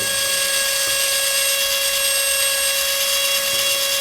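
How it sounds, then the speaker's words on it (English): A small electric drill whines steadily at a high, thin pitch, drilling a hole in a part of a 1/24 scale plastic Spitfire model kit, running continuously without pause, close and fairly loud. "you just use the weight of the drill itself just to kind of make the hole."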